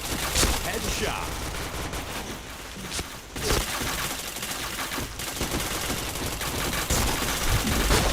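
Video-game weapon fire rattles in dense, rapid bursts throughout, a nearly unbroken barrage of shots with gamer voices mixed in.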